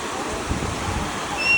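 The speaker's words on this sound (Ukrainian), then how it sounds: "Другий день дуже сильні хвилі." Strong sea waves wash onto the beach at Sunny Beach, Bulgaria, a loud, continuous surf roar with wind buffeting the microphone.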